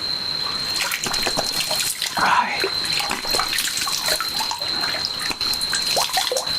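Clear cold spring water trickles and splashes steadily inside a jungle cave, close and moderately loud, with a brief brighter splash partway through and a faint voice in the background.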